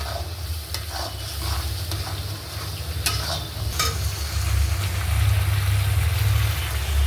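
Salted curry is sautéed and stirred in a pan, with a steady sizzle, intermittent spatula scrapes and clinks, and a constant low hum beneath that swells toward the end.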